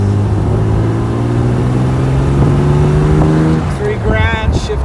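A Jaguar E-Type engine pulls hard in second gear, a loud, close, steadily rising drone that swells and then eases as the shift approaches, with a voice briefly heard under it.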